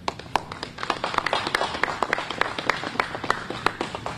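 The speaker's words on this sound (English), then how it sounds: "Let's give him a round of applause." Applause from a modest crowd at a press conference following an introduction, with distinct individual claps audible in an uneven, scattered rhythm rather than a dense roar, steady over several seconds at moderate distance.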